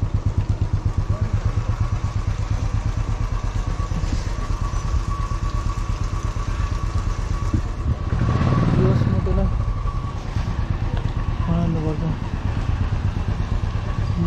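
A motorcycle engine running steadily throughout, a close, loud, even rumble with a rhythmic idle-like pulse and a brief swell near the middle, while a voice speaks over it.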